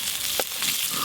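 Chopped onions fry in oil in a kadai, a steady faint sizzle with a short brighter crackle near the middle; no voices.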